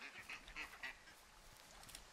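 A strange duck in the game Firewatch lets out several nasal honking quacks in a quick cluster early on, then fainter calls trail off against quiet outdoor ambience.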